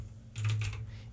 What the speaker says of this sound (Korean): 어쩌다 보니까 이제 타이핑을 쳤는데